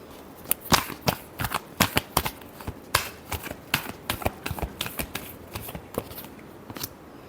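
Tarot cards are shuffled by hand in a string of quick riffling, slapping bursts, close and crisp, with short gaps between the shuffles.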